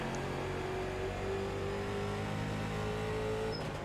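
A NASCAR late model race car engine in the iRacing sim holds a steady, continuous high-revving drone at moderate level, with only a faint shift near the end and no talk.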